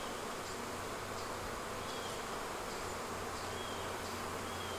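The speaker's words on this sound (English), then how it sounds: "I don't know how these bees are surviving" Honeybees in a weak, queenless hive buzz softly and continuously, a faint, even hum of many wings with occasional individual bees passing nearby, and no talking.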